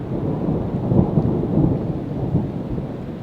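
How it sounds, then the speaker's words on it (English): Storm rain drumming on a tent canopy at a campsite during severe weather, a dense continuous low rumbling patter with thunder-like swells, close and steady with no voices. "Something's definitely hitting the canopy here."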